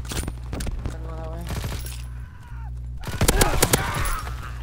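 Shotgun blasts from Call of Duty: WWII online play ring out as sharp, loud bursts, a rapid cluster near the end over a steady game background, with a voice talking briefly before them.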